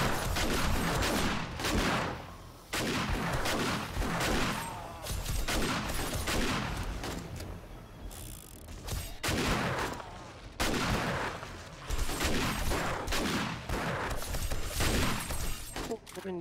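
Repeated gunfire and shattering blasts in the co-op survival game 7 Days to Die during a blood moon night, dense bursts of shots with brief gaps, while players talk over the action.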